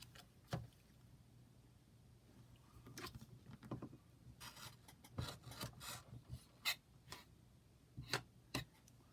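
A blade trims through bulky folded paper in quiet, irregular rasping and scraping strokes, close and faint, with scattered sharp ticks and no talk.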